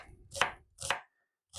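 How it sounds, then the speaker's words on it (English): A knife chops an onion into little pieces on a cutting board, three crisp close chops with brief pauses between them, alone without talk. "We're going to be instead chopping up this onion into some little bits"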